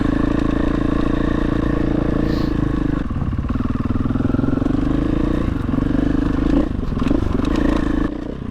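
A KTM 500 EXCF dirt bike rides through Colorado, its engine droning steadily and close with shifts in pitch, and clattering, scraping mechanical noise runs throughout.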